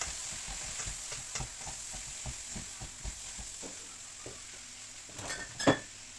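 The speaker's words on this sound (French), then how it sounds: "Et on va ajouter un peu de sauce soja maintenant." Beef and shrimp noodles stir-fried with soy sauce sizzle steadily in a hot pan, with repeated rhythmic scrapes and clinks of stirring close by and a louder clatter near the end.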